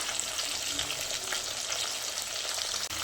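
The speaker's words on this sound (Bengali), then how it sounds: "তো আমি এটাকে উল্টে পাল্টে ভালো করে ভেজে নিব।" Comfret fish fillets frying in hot oil in a pan, a steady close-up crackling sizzle with dense bubbling, continuous and fairly loud throughout, with no voices.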